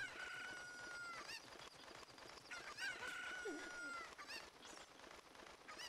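A chicken in Ocarina of Time, the Nintendo adventure game, gives repeated crowing and clucking calls over a game soundtrack, fairly quiet and steady, no talking.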